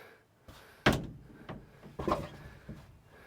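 A homemade automatic door on an off-grid toilet swings shut with a couple of soft wooden thuds and a rattle, fairly quiet and close, with no talking.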